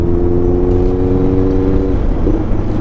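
A Honda CBR650R motorcycle engine runs loud and close through a gear change, a steady droning note holding for about two seconds before the pitch breaks and the tone shifts as the next gear engages.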